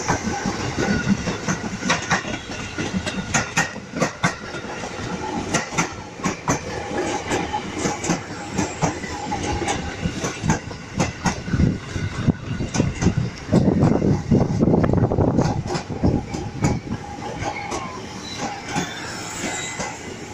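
A KRL commuter line double train, two coupled sets, passes close by south of Bogor station, with loud rolling rumble, rhythmic clickety-clack of wheels over rail joints and some wheel squeal, steady for about twenty seconds with no talking.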